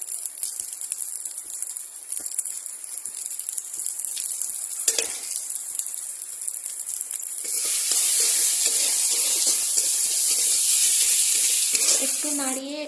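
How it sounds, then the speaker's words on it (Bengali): Chili and turmeric powder sizzle in hot oil, a close, steady frying hiss that swells louder partway through, with faint stirring clinks. "তেলে একটু লঙ্কাটা মেরে নেওয়ার পর হলুদ গুঁড়ো দিচ্ছি।"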